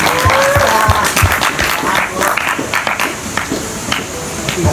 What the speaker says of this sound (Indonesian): Tepuk tangan dulu dong buat 3 orangnya.